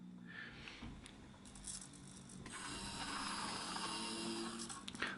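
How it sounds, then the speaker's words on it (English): A small motor and gearbox unfold a 3D-printed self-orienting antenna prototype after a switch flip. A faint click comes first, then a steady mechanical whir and grinding swells and holds close by until a final click. "When I flip this switch, the antenna deploys using this little motor and gearbox on the right."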